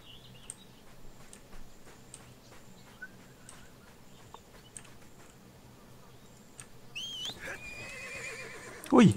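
A horse whinnies loudly at the end in the video game ArcheAge, following a stretch of quiet ambient sounds with faint scattered clicks and taps.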